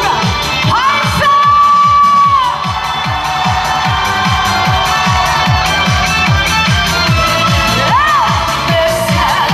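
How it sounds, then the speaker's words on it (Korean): At a strawberry festival stage in Samnangjin, Miryang, a crowd shouts and cheers loudly over a steady pounding bass beat from a live performance, with whoops rising above the sustained roar. "여기 계신 분들의 대박을 위해서 전방에 함성 5초간 발사!"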